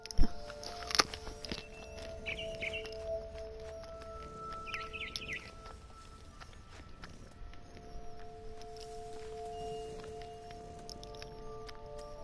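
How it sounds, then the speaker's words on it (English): A barn swallow in the video game What Remains of Edith Finch gives a few brief, high chirps, while soft footsteps and a low ambient bed continue underneath. "Then I heard chirping outside my window. It was a barn swallow going back to her nest."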